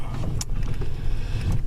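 A car drives across a farm yard, a steady low engine and tire rumble heard from inside the vehicle, with a few faint rattles and bumps over the drone.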